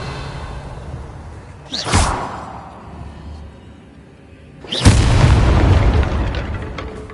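Two Confringo explosive spells go off in the video game Hogwarts Legacy, each a whooshing rush into a deep boom, the second louder with a longer rumbling tail.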